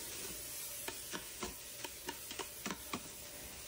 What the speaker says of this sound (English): Now mix, mix, mix.